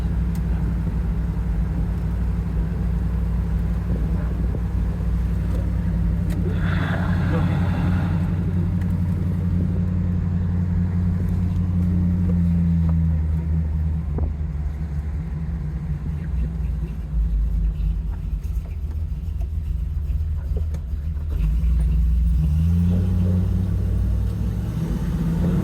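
A 1971 Chevy Camaro Z28 with a cammed 400 engine, automatic transmission and Flowmaster mufflers rumbles steadily at a deep, loping idle, with occasional revs and people talking faintly nearby.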